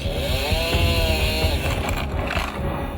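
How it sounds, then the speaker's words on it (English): Chainsaws roar while cutting fallen trees after Hurricane Sandy, a loud continuous engine buzz close by with slight pitch shifts as the blade bites into wood. "With chainsaws in hand, we started to carve out openings in the debris so emergency vehicles could respond to distress calls."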